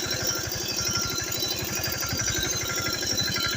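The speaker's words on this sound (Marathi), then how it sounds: "आणि लगेच ट्रॅक्टरला सुरुवात करून देतो चालवायला." A tractor engine runs steadily on a farm field before harrowing, with a close, constant low throbbing and an even mechanical pulse and no pauses.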